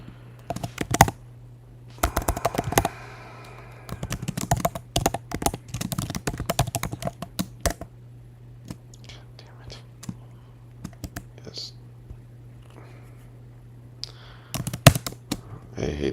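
Typing on a computer keyboard: irregular bursts of close, sharp key clicks stop and start over a constant low electrical hum, with quiet whispering in places.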